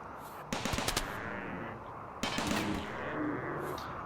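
Plasteel mini turrets in RimWorld let off two short bursts of rapid gunfire, close and sharp, each rattling for about half a second before the shots fade into a quiet, steady hum.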